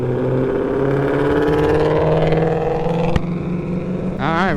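A 600cc sport motorcycle engine revs hard during an informal race, a loud close whine climbing steadily in pitch, with a brief sharp drop and a final rising rev burst at the end.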